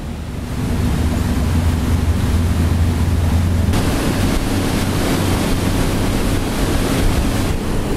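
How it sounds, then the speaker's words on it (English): A Broom 42 motor cruiser with twin Volvo Penta engines speeds along the River Shannon, a steady low engine drone blended with rushing water and heavy wind buffeting the microphone, loud and continuous throughout. "then we'll put the hammer down and see how many knots we can get up on these Volvo Penta engines"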